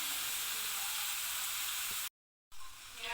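Onion sizzling in hot oil with a small piece of cinnamon and a bay leaf, a steady close frying hiss that drops to a brief silence and then returns, no talk.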